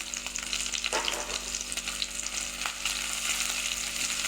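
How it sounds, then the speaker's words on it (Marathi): Green chili and crushed peanuts sizzle in a pan while they are stirred and sautéed. The frying crackles steadily up close, with brief scraping strokes and no voices. "हे आपण छान असं परतवून घेऊ"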